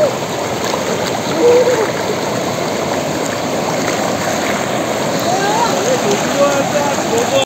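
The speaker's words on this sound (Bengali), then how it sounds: "সব থেকে এই জায়গাটা পুরো স্ট্রিম, প্রচুর স্রোত।" A strong stream current rushes at a dam, a loud, steady, close roar of flowing water with constant splashing, and a voice is heard now and then over it.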